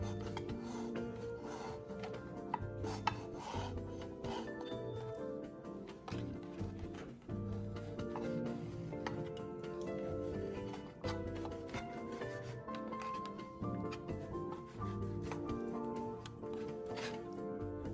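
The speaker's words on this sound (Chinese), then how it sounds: "花肉400克，先將豬皮去掉，完成後的成品才不會硬" A knife scraping the skin off a 400-gram piece of pork belly, giving a steady rasping, rubbing sound that runs continuously with small taps and shifts throughout.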